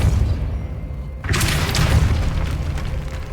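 A Depulso force spell cast in the Hogwarts Legacy video game, heard as a sudden loud booming burst about a second in, followed by a sustained roaring, crackling rush of magical energy over a low rumbling game soundscape.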